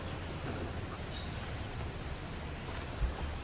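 Heavy rain pours steadily outdoors in Surat, a dense, even hiss with low rumble throughout and a soft bump near the end.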